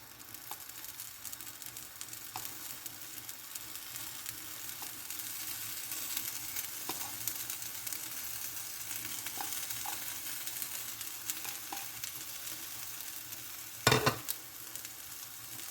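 A frittata of egg mixture with ham sizzles steadily in a pan, a constant hiss with a few faint taps, then a sharp clatter near the end.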